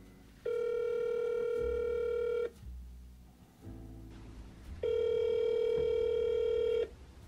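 A telephone rings in two long electronic bursts separated by a pause, steady and fairly clear, with nobody picking up.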